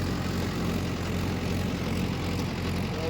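Mahindra Yuvo tractor driving a 585 rotavator in a field, its engine droning loud, dense and unbroken under heavy load.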